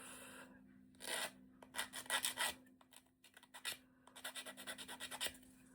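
A small file rasps burrs off a tiny miniature kit piece for a flower-room book nook, in quick repeated strokes that come in short bursts with pauses between them, close and fairly quiet.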